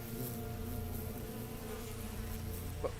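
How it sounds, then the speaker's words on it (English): Bees buzz in the video game Frog Fractions, a dense, continuous droning hum that holds steady and fairly loud throughout with no speech. "The bees. The bees. Bees."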